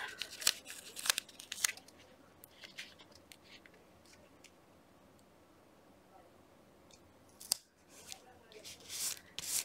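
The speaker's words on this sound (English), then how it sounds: "I'll just snip that down there" Scissors snipping paper while crafting calendar journal pockets: a few crisp cuts near the start, a quiet stretch of faint rustling, then more snips and paper handling toward the end, close and soft.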